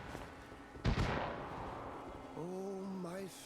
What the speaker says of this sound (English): Fireworks. Heck yeah.